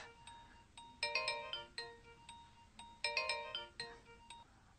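A phone ringtone plays a repeating chime melody, two bright bursts of tones about two seconds apart, clear and moderately quiet.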